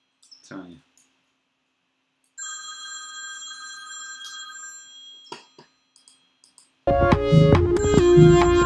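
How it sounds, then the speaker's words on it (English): A telephone bell rings in a steady, sustained electronic tone for a few seconds after a brief chirp, then cuts off before loud music with thumping beats takes over. "Phone rings half the time, it's the wrong number."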